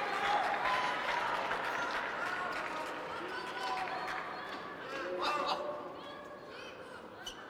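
A crowd applauds and cheers at a men's singles semifinal table tennis match between Fan Zhendong and Timo Boll, the roar swelling and easing over several seconds while a commentator talks over it.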